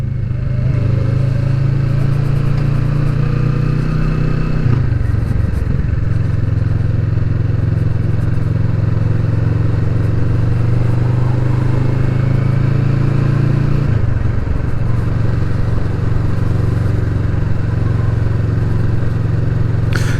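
A 2020 Kawasaki Vulcan S cruiser motorcycle ridden along country roads, its steady engine drone loud and close, dipping twice as the rider shifts gears before settling back into a constant hum.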